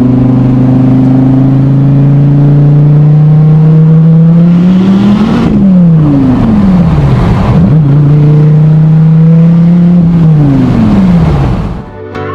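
A V10 car of almost 700 horsepower with side exhaust accelerates hard through several gears, its loud, close engine note climbing in pitch, dropping at each shift, then climbing again.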